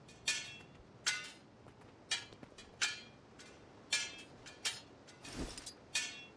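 Crafting a tool hammer in Guild Wars 2 brings about ten sharp metallic clinks and taps, spaced at uneven intervals, fairly quiet and alone with no talking.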